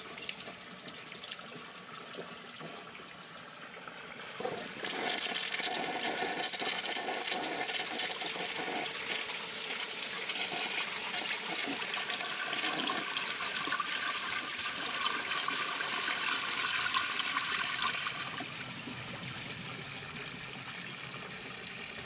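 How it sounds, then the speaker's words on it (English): Restored 1979 American Standard Cadet toilet flushing: a surge of rushing water swells up after a quiet start, stays loud for several seconds, then eases into a softer refill trickle. "Bring another flush."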